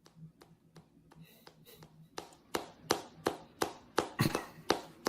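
Sharp, played-back claps ring out, sparse and irregular at first, then coming faster and louder in a steady run of distinct hits.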